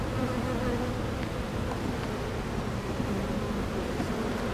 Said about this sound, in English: I'm gonna let the bees just keep working it, especially because I'm gonna leave the super on.